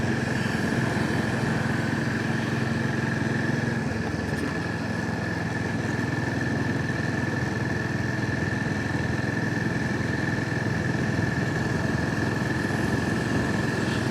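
A motorcycle engine drones steadily on a ride toward Rishikesh past a forest area, a constant mid-pitched hum with wind rush and a faint whine, loud and continuous with no talking.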